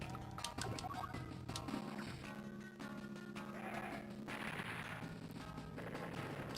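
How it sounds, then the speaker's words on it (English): Artillery fires in Advance Wars 2: Black Hole Rising, faint game blasts mixed in with quiet background music. "Make sure to shoot with artillery first."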